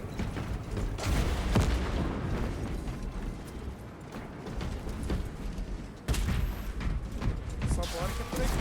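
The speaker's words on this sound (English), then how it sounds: "Throwing frag grenade." In Warhammer 40000 Space Marine 2, a frag grenade is thrown and then bursts with a sudden loud boom amid ongoing gunfire and rumbling combat, while voices talk throughout.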